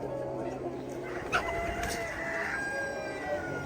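A rooster crows faintly on a free-range chicken farm, with soft clucking and a low background hum beneath it.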